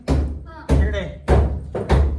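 Hammering on a house's concrete slab: four heavy, evenly spaced thuds, close and loud, each ringing briefly before the next blow.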